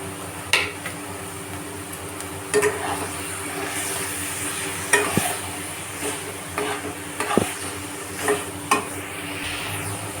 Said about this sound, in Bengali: আমি এবার চিনি দিয়ে ভালো মতন পাক করবো নারকেলটা